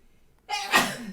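One sudden sneeze bursts out after a moment of near silence, a sharp breathy blast close to the microphone, with nobody speaking.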